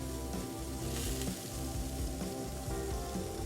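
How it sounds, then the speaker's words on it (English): Melted butter squeezed from a squeeze bottle over two cooking chorizo-stuffed pork loins sets off a steady, crackling sizzle, close and continuous, with no talking. "I'm just gonna squeeze a little bit of butter on top of both pork loins"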